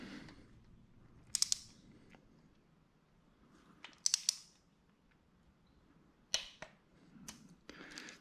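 A torque wrench set at 90 tightens a screw on a Harley-Davidson Twin Cam engine, giving a few sharp, quiet clicks spaced seconds apart over a near-silent background.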